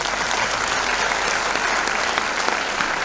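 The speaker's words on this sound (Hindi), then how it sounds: "एक बार ताली तो बनती।" An audience applauds steadily at a talk marking the International Day for Older Persons, a dense, continuous wash of clapping hands that holds evenly throughout, with no voices over it.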